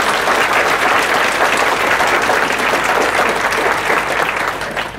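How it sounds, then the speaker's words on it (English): Loud, sustained applause from an audience, dense clapping throughout that eases off slightly at the very end. "So let's give all of them a round of applause."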